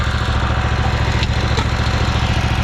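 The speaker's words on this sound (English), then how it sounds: "I thought we would just pull it with the mower." Riding lawn mower engine running steadily while pulling a lawn dethatcher: a loud, close, rhythmic low chugging drone with constant pulsing throb and no speech.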